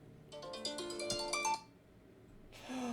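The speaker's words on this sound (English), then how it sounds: "That's my alarm to go to bed." A short, bright electronic alarm melody chimes from a phone for about a second, followed by a brief swell of noise.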